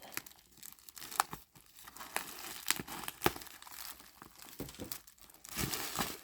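Close, uneven bursts of crinkling and tearing as bubble wrap wrapped around a Dooney & Bourke handbag parcel is cut open, with short pauses between rustles and no talking.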